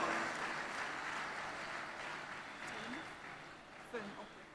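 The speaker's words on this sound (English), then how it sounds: "Can we have a round of applause?" An audience at a live research and entrepreneurship event gives a round of applause, heard as a faint, distant, continuous patter of clapping that slowly fades.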